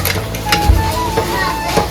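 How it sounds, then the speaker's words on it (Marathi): Chicken for a spicy Marathi curry bubbles and simmers steadily in a pot of boiling water, a close, continuous sizzling burble with light clinks, and a faint voice in the background. "पाणी पण उकळायला लागले आणि चिकन पण आपलं शिजायला लागले बघा कसं शिजते रटारटा"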